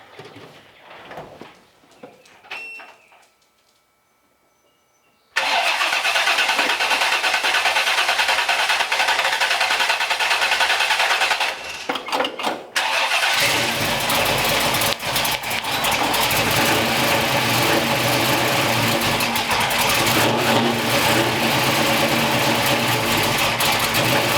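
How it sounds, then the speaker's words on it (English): A 1964 Chevrolet C10 with a newly installed ignition cranks briefly after quiet shuffling, then fires and roars into a loud, steady run close by, with a short dip in the engine note partway through. "It's running."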